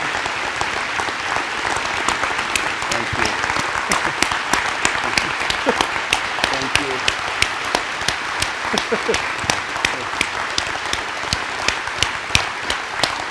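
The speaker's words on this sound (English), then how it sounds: "round of applause." An audience at a Waco event with a U.S. Supreme Court Justice gives a warm round of applause: dense, sustained clapping from a large crowd that stays fairly even for over thirteen seconds.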